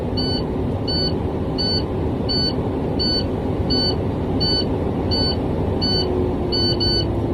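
A truck cab's low air pressure alarm beeps steadily, evenly spaced about every seven-tenths of a second, over a constant low engine rumble during a brake test.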